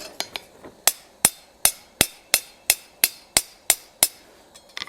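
Steady hammer blows ring out on metal being forged into a decorative cross, about a dozen sharp, evenly spaced strikes close up, each with a brief metallic ring.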